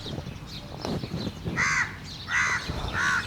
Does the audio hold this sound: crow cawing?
yes